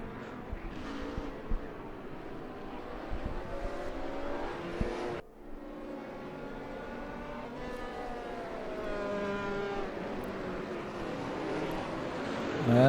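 Race cars at the Sachsenring in the GTR3 Endurance Series, including a damaged BMW Z4, with engines droning and revving as they pass and a sharp drop in pitch partway through, under faint commentary.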